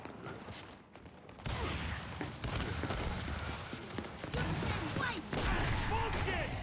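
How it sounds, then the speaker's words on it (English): Gunfire from shotguns and other weapons in the video game Gears of War, dense overlapping blasts and bursts forming a loud continuous battle din, with talk mixed in. "I'm getting shot across the map by a shotgun, bro."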